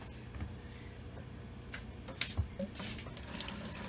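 Water poured and splashing into a bucket as it is drawn from a guppy fish tank, with intermittent close splashes and trickles over a quiet background.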